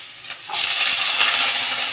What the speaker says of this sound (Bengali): এই যে আলু পেঁয়াজটা একটু হালকা করে ভেজে নিচ্ছি